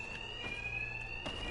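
An alarm rings in the video game Batman Arkham Knight, a steady high electronic tone that sounds continuously and moderately loud throughout.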